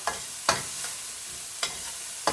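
Vegetables sizzle in a pan as they are stir-fried for vegan fried rice, a steady close frying hiss broken by a few sharp clatters of stirring.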